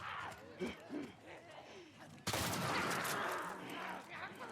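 Shotgun fire in The Last of Us: after a stretch of low, muffled activity, one sudden loud blast hits midway and gives way to sustained, noisy commotion that stays loud to the end.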